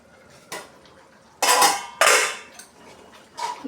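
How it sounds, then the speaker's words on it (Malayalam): Beef curry stirred in a metal pot and then covered, with a few sharp clangs and scrapes of spoon and lid against the pot, close and loud between quiet pauses. "നല്ലവണ്ണം ഒന്ന് ഇളക്കി കൊടുക്കാം. കുറച്ച് നേരം അടച്ചു വെക്കാം."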